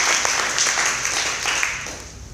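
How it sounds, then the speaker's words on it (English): A crowd at a startup accelerator demo day claps and applauds steadily for a couple of seconds, sustained and fairly loud, fading slightly toward the end. "Big round of applause."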